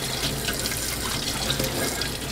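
Tap water running steadily over a glass globe from a Dietz Junior No. 20 lantern as it is rinsed clean in a sink, a close, even splashing hiss with no speech.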